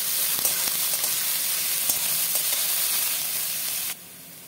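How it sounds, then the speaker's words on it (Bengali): Chopped onions fry in oil in a wok with a steady close sizzle and faint stirring ticks, the hiss dropping away abruptly near the end. "পেঁয়াজটাকে এবার লাল লাল করে ভাজবো।"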